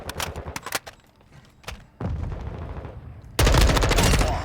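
Gold M4 rifle fired in the video game Modern Warfare 2, with rapid bursts of automatic gunfire and thuds, loud and close, swelling into a dense, continuous volley at the end.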